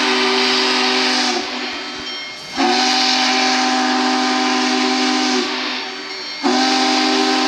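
Union Pacific Big Boy 4014 steam locomotive in Wyoming: a loud, close, chime-like steam whistle sounds in long blasts, dipping briefly between them, over a steady hiss of steam.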